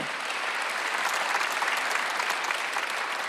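A church congregation applauds during a Sunday worship sermon, a dense, steady wash of many hands clapping that fills the room for the whole stretch with no voices breaking through.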